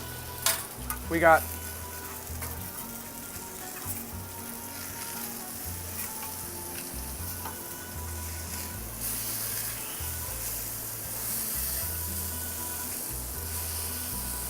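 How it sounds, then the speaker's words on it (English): Salmon fillet frying in a hot pan after being flipped, a steady, close sizzle that runs unbroken throughout, with a brief clatter of the turn early on and a few spoken words. "Caramelization's happening, the flavor is working. We're gonna flip our salmon."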